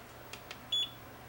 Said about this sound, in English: If I get near the outlet that's hot, it'll beep.